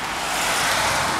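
Traffic on a road heard as a continuous broadband rush of passing cars, fairly close and steady, with no voices over it.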